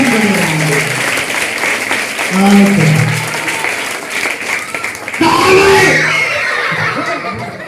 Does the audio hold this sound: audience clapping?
yes